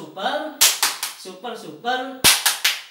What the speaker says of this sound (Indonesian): tepuk super untuk Bu Maryam, pertanyaan bagus